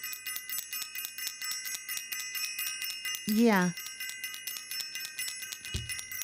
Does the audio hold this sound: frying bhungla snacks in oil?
no